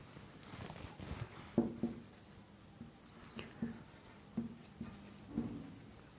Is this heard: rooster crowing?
no